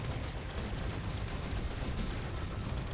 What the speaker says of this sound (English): Getting some good cannon shots here.